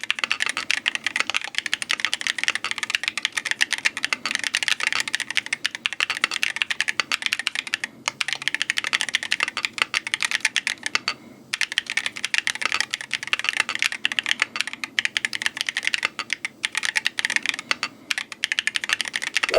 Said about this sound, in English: This is also ACE65 magnetic switch keyboard, but with absolutely different keycaps.